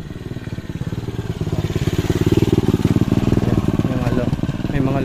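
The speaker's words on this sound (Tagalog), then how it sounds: "May mga local din dito na nagmumotor." Motorcycles ridden by locals along a rough, difficult trail near Baawan Falls, a steady, close engine chugging with rapid rhythmic pulses that build slightly in loudness throughout, with faint voices in the background.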